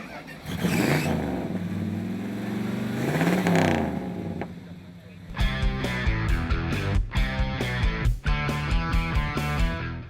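A hot rod engine revs hard twice in rising, falling sweeps, then settles into a loud, choppy idle with sharp sputtering pops, close by.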